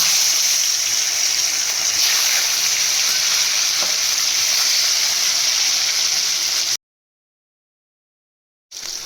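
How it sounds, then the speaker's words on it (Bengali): Hilsa fish pieces frying lightly in hot mustard oil, giving a loud, steady, crackling sizzle for several seconds before it cuts to silence and briefly resumes. "এবার আমি ইলিশ মাছটা হালকা করে ভেজে নেবো"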